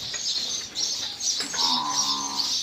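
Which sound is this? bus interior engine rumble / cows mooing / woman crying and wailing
cows mooing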